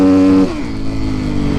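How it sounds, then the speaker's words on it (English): Kawasaki KX450F dirt bike with its rear tire spinning, the engine loud and close at high revs, dropping in pitch early on and then holding a steady drone. "because the bike just spins"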